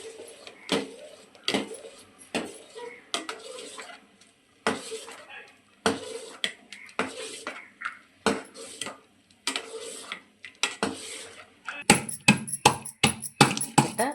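Millet payasam ingredients pounded by hand, a series of close, sharp thuds and clinks at an uneven pace with a short pause, then a faster burst of strikes near the end.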